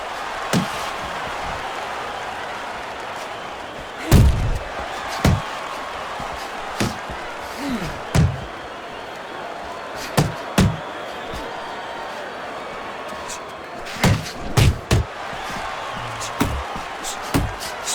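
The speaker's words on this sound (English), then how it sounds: "That's a big uppercut that just crashed home." Punches landing in the boxing video game Fight Night Champion, sharp thuds and slams scattered irregularly, some in quick clusters, over a constant crowd murmur.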